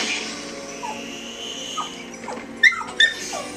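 A puppy whimpers in Batman: Arkham Asylum, several short, high, faint whines spread across a steady game backdrop, with two brighter yelps near the end.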